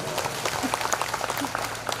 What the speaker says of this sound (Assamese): এটা হাত চাপৰি বচাই দিয়ক